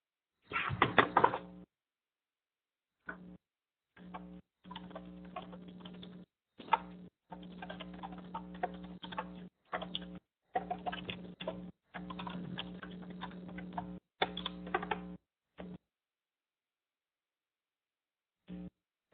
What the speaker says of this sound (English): We'll type it.